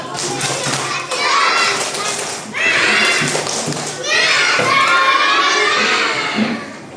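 Children chanting the tepuk semangat routine in a class, loud voices in rhythmic bursts with claps mixed in and busy group noise throughout.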